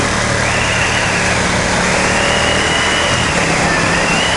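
A Ducati XDiavel S motorcycle engine lugging at low RPM in gear, a steady loud rumbling drone with a slight shudder, heard close and continuous with no talking.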